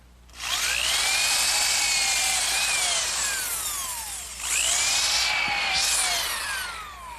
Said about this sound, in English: pre-drill a hole using this bit, which gives me a countersink for the screw heads